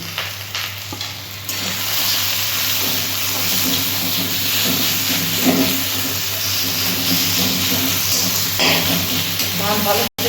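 Ground turmeric, chili, Kashmiri chili and cumin fry in a pan for a steamed egg curry, a loud steady close sizzle and hiss with occasional stirring scrapes, no talk.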